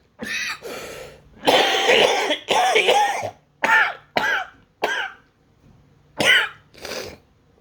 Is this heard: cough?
yes